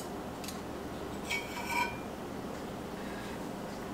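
A spoon scrapes and clinks against a skillet while scooping in fat for cooking Brussels sprouts, giving a few light metallic taps and a short scraping clatter over a quiet room hum, with no voices.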